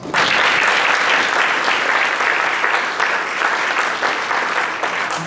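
A Rotary club meeting audience gives a sustained, dense round of applause for two visiting schools at a challenge finalists event, loud and steady for several seconds without a break.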